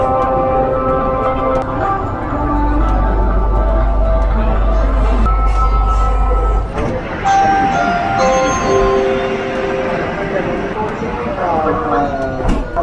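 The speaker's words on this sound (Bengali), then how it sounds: "কোচি মেট্রোতে চড়ে পড়েছি আর খুব সুন্দর লাগছে।" Inside a moving Kochi Metro train in Kerala, a steady low rumble of the carriage runs throughout, with a sustained low hum and tonal whines, under nearby voices and chatter of passengers.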